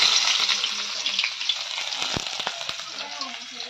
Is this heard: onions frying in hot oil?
yes